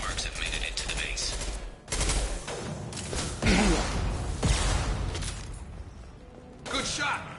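Rifle fire in Mass Effect 2, with repeated bursts and impacts mixed with whooshes and thuds through a busy combat scene, and speech-like voices under it.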